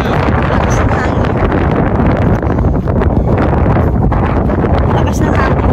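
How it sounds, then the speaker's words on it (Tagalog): Strong wind buffets the microphone in a steady, loud roar with gusty surges throughout, like standing on an exposed height. "Lakas ng hangin, grabe."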